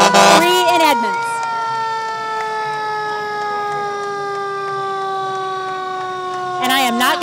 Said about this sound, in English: I am not going to try to talk over some of those sirens